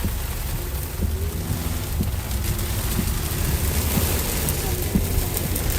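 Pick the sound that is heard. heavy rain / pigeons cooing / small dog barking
heavy rain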